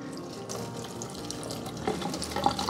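Water spraying with some force onto a houseplant to blast off spider mites, a close continuous hissing splash that grows a little louder toward the end.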